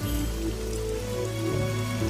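Rain falls steadily in an even, continuous patter with no breaks, moderately loud and unaccompanied by any voices.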